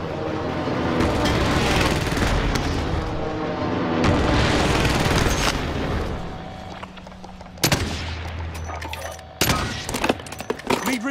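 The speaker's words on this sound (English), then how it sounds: "Allied precision airstrike incoming" Precision airstrike explosions in a video game, with heavy blasts and gunfire rolling loudly for several seconds, then sharp separate bangs and cracks breaking through quieter gaps near the end.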